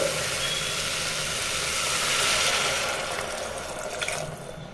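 Water poured into a cooking pot holding green chillies, a continuous loud rushing splash that fills the clip and eases slightly toward the end.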